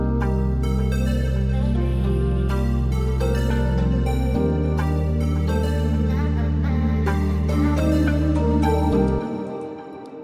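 An amapiano bass line from the Kepler plugin, produced in FL Studio, plays as deep sustained bass notes that change pitch twice, layered with bright melodic synths, before cutting off near the end.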